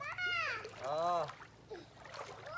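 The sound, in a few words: children splashing in water while bathing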